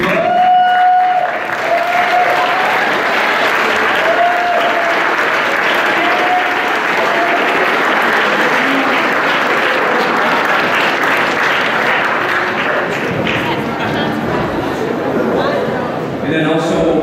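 Loud, sustained applause from a large crowd at an athletic awards ceremony, with a few voices calling out early on before the clapping continues strongly and fades slightly near the end.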